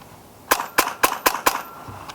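Five quick shots from a Hatsan Barrage semi-automatic airgun, sharp close cracks evenly spaced about a quarter second apart, loud against a quiet background.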